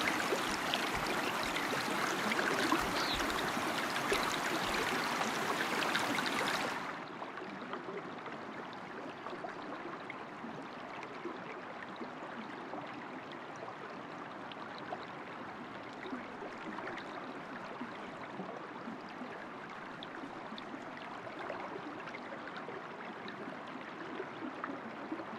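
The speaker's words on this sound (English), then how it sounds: "The water is super loud." Loud, steady rushing of a flowing stream in a pheasant hunting video game, a broadband wash that drops to a somewhat quieter level partway through and then continues evenly.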